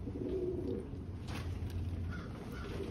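A pet pigeon coos softly and repeatedly up close in a calm indoor setting, low steady murmuring over faint background noise.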